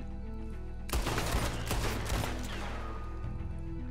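Dual-wielded revolvers firing in Red Dead Redemption 2, a loud burst of rapid overlapping gunshots over a couple of seconds, then a lingering echoing tail, with no talking.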